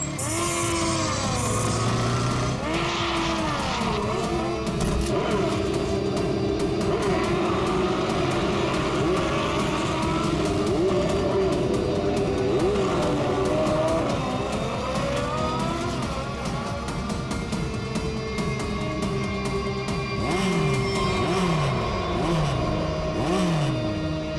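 Racing motorbikes roar throughout with constant engine whine and rising and falling revs, loud and continuous with no voices.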